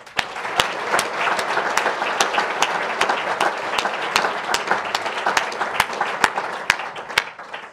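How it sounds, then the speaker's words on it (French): Steady audience applause at a university opening-of-term ceremony honours a prize winner, a dense wash of many hands clapping evenly throughout at moderate loudness, with no voices over it. "Donc, on peut l'applaudir."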